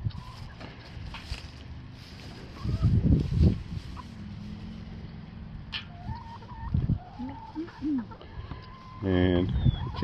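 Chickens in a spring garden, clucking intermittently at close range, with a few louder bursts of movement and calls scattered across the clip.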